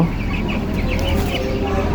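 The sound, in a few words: chicken clucking while being weighed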